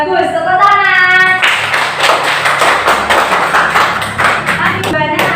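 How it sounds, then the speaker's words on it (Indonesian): Students in a classroom clap for a group after their presentation: a lively burst of close, rapid hand claps lasting several seconds, with a teacher speaking just before and just after. "Iya, tepuk tangan buat kelompok 2."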